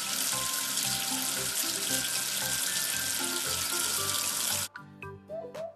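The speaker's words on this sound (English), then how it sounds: "Wash away the soap with water." Cartoon water from a tap rinses soap off a number in a children's counting game: a steady, loud splashing gush that cuts off abruptly near the end, followed by a few bright chime-like tones.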